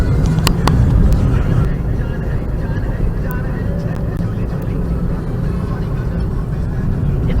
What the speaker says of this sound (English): They are overtaking me and I am driving at a very slow speed.